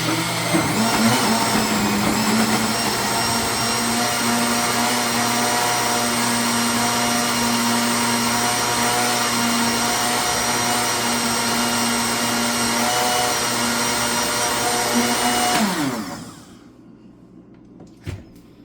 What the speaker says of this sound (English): we're going to put this on the blender and we're just going to blend this